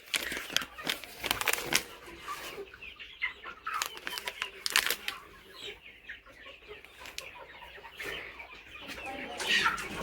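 Country gavran chickens on a poultry farm cluck steadily, many birds close by, with occasional wing flaps and a busy, scratchy background.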